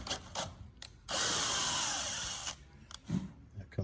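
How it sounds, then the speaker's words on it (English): A power drill whirs into hard composite material on a Sling High Wing aircraft kit for about a second and a half, a steady grinding burst set between quieter handling noises. "Composite material really grabs the drill"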